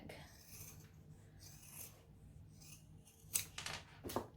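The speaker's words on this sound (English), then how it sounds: "And I am going to trim off that tail." Scissors trim a thread tail and seam allowance on a sewn bag, giving a few quiet close snips and rustles, with two sharper cuts near the end.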